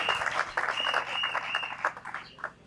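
An audience bursts into steady applause at a ceremony where names are being called out, with dense clapping that carries on throughout the short stretch before fading slightly at the end.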